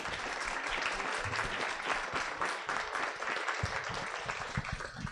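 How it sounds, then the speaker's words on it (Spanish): Audience applause for panelists at a session on gender violence and feminism, a steady dense clapping from a crowd that runs the whole time at even strength. "Les pediría por favor un aplauso para nuestras panelistas."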